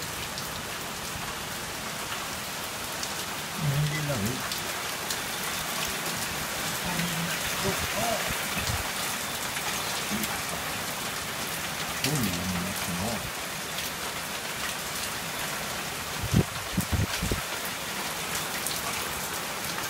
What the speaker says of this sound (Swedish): Nu regnar det.